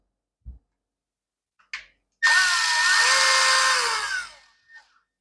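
A power tool runs for about two seconds, driving a bolt into an Echo SRM225 string trimmer during a carburetor rebuild, with short clicks and handling knocks before it and a brief tail after.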